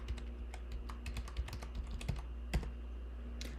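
A password is typed on a computer keyboard as a quick run of light, close key taps at an irregular pace, over a low steady hum, with no voices.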